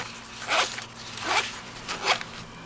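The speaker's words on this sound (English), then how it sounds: "So it's got a nice sturdy zipper" A sturdy zipper on a diabetic supply kit case is pulled in three short, scratchy bursts, close and clear, with brief gaps between each stroke.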